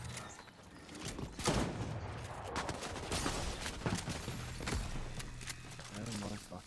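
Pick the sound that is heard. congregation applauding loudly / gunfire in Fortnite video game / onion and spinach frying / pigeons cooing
gunfire in Fortnite video game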